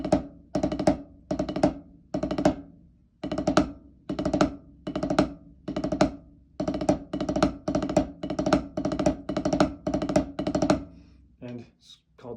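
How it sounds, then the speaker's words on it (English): Snare drum playing the five-stroke roll rudiment: a steady series of short buzzy bursts, each a quick cluster of strokes ending in an accent, repeated evenly and close up, with a brief voice at the very end. "The 5-stroke roll sounds like this."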